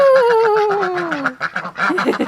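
Ducks kept near a greenhouse quack in a close, rapid series of loud nasal calls, with a person's brief exclamation over them.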